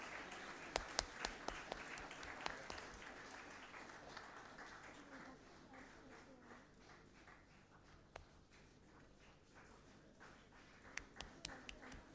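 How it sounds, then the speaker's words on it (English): Scattered applause from a crowd at a student startup prize event, with sharp individual claps standing out at first and then thinning to sparse claps. "Give a good round of applause to our students."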